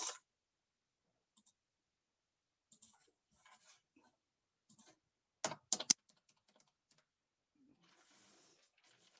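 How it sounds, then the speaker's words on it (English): Keys on a computer keyboard tapped in a few short, quiet bursts spread across a mostly silent stretch, with a brief louder cluster of clicks near the middle. "I'll type the word in the chat so you spell it correctly."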